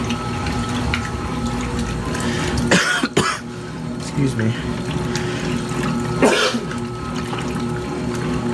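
Water runs steadily from a new faucet on an 80s Kenmore laundry center throughout, with a man coughing and briefly speaking over it.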